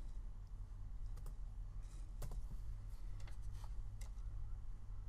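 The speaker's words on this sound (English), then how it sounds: "I'll type in my text." Quiet typing on a computer keyboard, scattered soft key clicks in short irregular clusters over a low steady hum.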